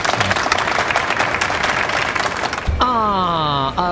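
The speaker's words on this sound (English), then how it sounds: "Ah, applause." Applause from a small group greets the start of an interview segment, a steady wash of clapping that gives way near the end to a voice speaking over it.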